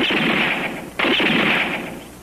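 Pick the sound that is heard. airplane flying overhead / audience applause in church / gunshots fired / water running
gunshots fired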